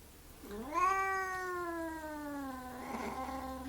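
A single drawn-out cat meow, rising then holding steady with a slight waver at the end, close and clear with no talking.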